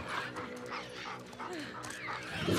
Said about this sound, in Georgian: მართლა მაგარი ძაღლი მოდიანო